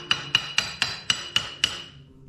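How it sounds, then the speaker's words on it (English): Seven sharp, evenly spaced hammer taps ring out close by as a front spring perch is seated on a 1931 Ford five-window coupe, each strike metallic with a short decaying ring. "Let me tap it down and get it nice and snug."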